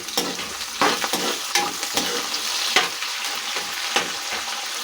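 Raw plantain pieces fry with softened tomatoes in a pan, giving a steady, close sizzle broken by repeated scraping stirs, with no talking.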